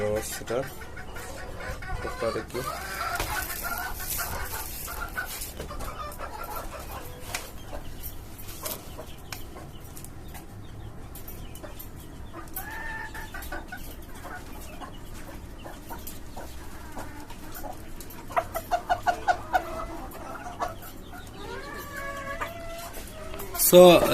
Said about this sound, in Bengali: আমার পাঁচতলা বাড়ির ছাদের উপর আমার শখের মুরগির খামার দেশি মুরগির খামার